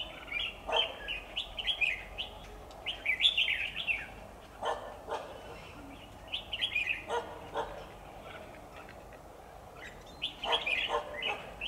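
A red-whiskered bulbul sings outdoors in bursts of bright, quick chirping phrases separated by short pauses, moderately close, with intermittent sharp dog barks in the background and no talking.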